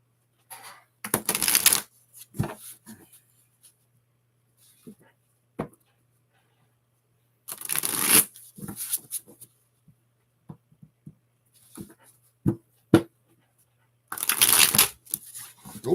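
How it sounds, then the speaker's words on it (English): Playing cards are shuffled during a live card-game stream. Three separate riffle bursts, each about a second long, are separated by quiet pauses with small taps and clicks. "Oh, that was a bad shuffle."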